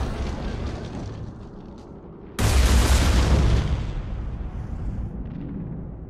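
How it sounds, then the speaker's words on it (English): A loud bomb explosion in Mass Effect 3 bursts in suddenly after a quieter stretch and rumbles on for a few seconds before slowly fading. "Oh shit, that's the bomb."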